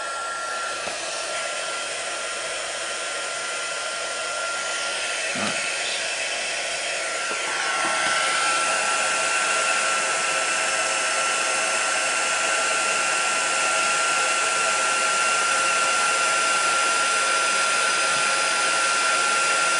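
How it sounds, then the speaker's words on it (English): A heat tool used for heat embossing a stamped card makes a steady, loud blowing whoosh like a hair dryer, running continuously throughout and growing slightly louder partway through. "Now we have to heat emboss them."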